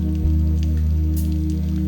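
Rain falls steadily during an outdoor morning adoration gathering, a continuous even patter over a low persistent hum, with no talking.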